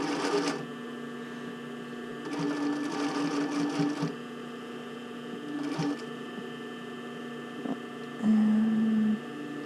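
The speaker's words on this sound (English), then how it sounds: "I'm just going to continue sewing." A sewing machine stitches a gathered bra cup, running in several separate bursts with steady mechanical whirring and a continuous low hum between runs, close and fairly quiet.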